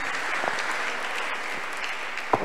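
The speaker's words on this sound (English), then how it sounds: "Shall we clap our hands unto the God of choosing for the choir rendition?" A church congregation claps steadily for a choir rendition, a continuous moderate wash of many hands with a single sharper clap near the end, and no voices.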